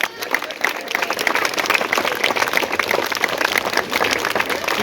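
A crowd claps at an outdoor Republic Day gathering where army veterans hand out shoes and jerseys to children, giving loud, continuous clapping with crowd noise and some voices mixed in throughout.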